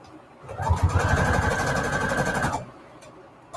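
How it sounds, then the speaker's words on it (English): Cardstock stitched onto cardstock by a sewing machine: one steady, buzzing run of rapid needle strokes lasting about two seconds, close and fairly loud, starting and stopping cleanly. "I am sewing cardstock on cardstock here"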